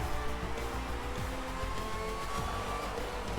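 Ferrari race cars at Monza roar steadily across the finish line, a dense, loud engine drone with passing sweeps and no voices.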